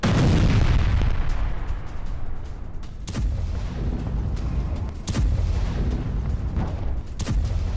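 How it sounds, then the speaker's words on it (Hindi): Artillery fire in a Russian strike on Ukrainian positions: a steady loud roar of combat noise punctuated by several sharp booming blasts at irregular intervals, with no speech. "रूस का हमला यूक्रेनी ठिकानों पर, तस्वीरें आपके सामने।"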